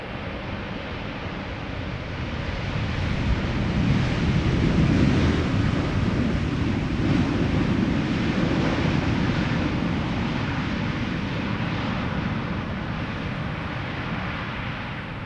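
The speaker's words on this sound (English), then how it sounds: "KLM flight 622 arriving from Atlanta, Georgia, up next to land. It's 777-300." A KLM Boeing 777-300 landing at Amsterdam Schiphol Airport makes a broad, steady jet roar that swells in the middle and eases off slowly, mixed with wind noise across fifteen seconds and no talking.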